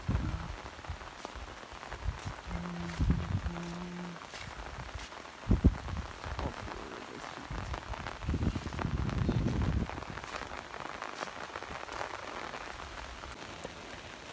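Steady rain pattering on surfaces nearby in a village, with scattered louder drops and a few faint voices in the background.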